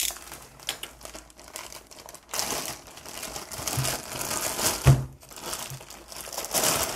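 A plastic bag from a secondhand puzzle cube package is crinkled and handled close up, with irregular rustling and crackling bursts throughout.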